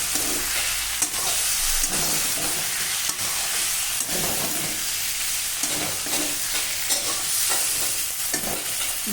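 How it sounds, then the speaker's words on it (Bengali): Fried vegetables are stirred into spice masala in a pan, giving a steady loud sizzle with scraping stir strokes throughout and no talking. "ভাজা সবজিটা দিয়ে এরপর একটু নাড়াচাড়া করে নেব, যাতে মশলাটা সবজির গায়ে গায়ে লেগে যায়"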